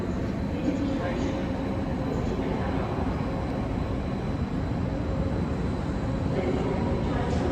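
A steady low rumble of a train fills Frankfurt Main Station, a continuous rolling drone with faint background chatter mixed in.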